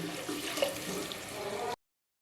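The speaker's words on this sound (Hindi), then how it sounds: "ये 4 गिलास हमने यखनी डाल दिया" Yakhni broth poured by the glassful into a pot for Bannu-style beef pulao, a steady close liquid splash and gurgle running unbroken for under two seconds before cutting off.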